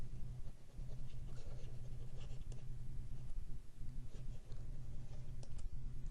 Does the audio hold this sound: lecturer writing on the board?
yes